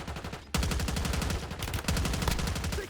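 Video game shooter gunfire: dense rapid automatic bursts, loud and close, run almost continuously after a brief quieter moment at the start.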